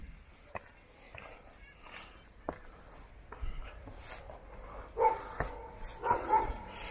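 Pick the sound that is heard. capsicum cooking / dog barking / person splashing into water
dog barking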